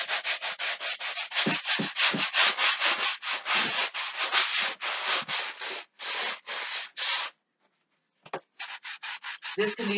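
Hand sanding scrubs across a cardboard desk top to roughen the surface, loud rhythmic back-and-forth strokes repeating steadily, a brief pause near the end before the strokes resume.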